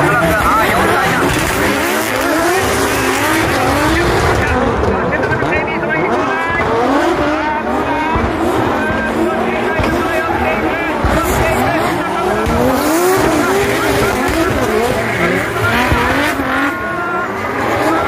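Four drift race cars at a D1GP exhibition at Tokyo Auto Salon 2024 roar with engines revving hard and tires squealing continuously, loud and close, while an announcer talks excitedly over the din and a crowd murmurs.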